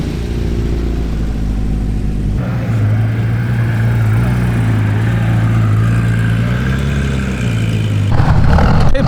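A classic Porsche 924 runs at a Cars & Coffee meet in Sydney, a loud steady engine drone with a low hum that rises slightly in pitch, continuous and close, with no talk over it.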